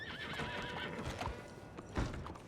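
A horse whinnies in a wavering call over the steady clip-clop of its hooves, with a heavier thud near the end, all close and continuous with no one speaking.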